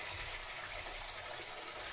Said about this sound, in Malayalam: നമുക്ക് ഡയറക്റ്റ് ടാങ്കിലിരിക്കുന്ന വെള്ളം എടുക്കുകയാണ്